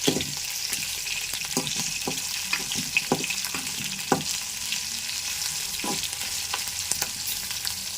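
Tempering spices sizzle and crackle in hot oil for a ridge gourd chutney, a continuous hiss broken by sharp pops and stirring taps throughout.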